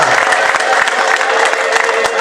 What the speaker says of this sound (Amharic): ታላቅ ልልታ ጭብጨባ ለኢየሱስ ይሰማ።